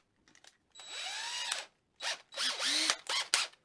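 A power drill whirs in several short bursts, its pitch rising and falling as it spins up and bites into wood for a custom guitar build, close and fairly loud.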